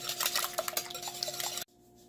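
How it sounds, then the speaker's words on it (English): Beaten eggs for a baked frittata are whisked in a bowl, giving quick clinking, tapping strokes against the dish for about a second and a half before stopping. "we want to get that whisked a little bit more"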